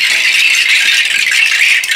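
A bright, continuous shimmering rattle of drum-kit metal chimes, sustained and fairly loud throughout with no voices.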